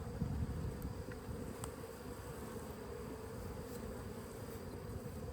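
Honeybees buzz in a dense, steady drone during an open hive inspection, a close, continuous hum with no voices.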